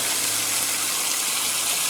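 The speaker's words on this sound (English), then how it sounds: "In the summertime when it's hot and this waterfall is flowing, this is a place to be" Steady broadband rush of the Mt Nebo waterfall in Arkansas, a continuous close wash of falling water with no pauses and no voices over it.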